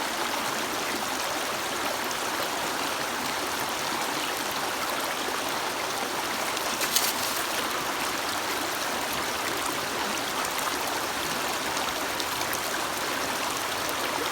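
Water rushes steadily through a Grizzly fluid bed sluice fed by a gold-and-sand hybrid hand pump, making a continuous, fairly loud stream-like wash with no break or variation across the whole stretch.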